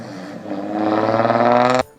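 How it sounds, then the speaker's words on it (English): A straight-piped VQ V6 engine revs up hard for under two seconds, its raspy exhaust note climbing in pitch before cutting off abruptly. The sound is close and fairly loud, with no talking. "one of those awesome sounding straight pipe VQ engines."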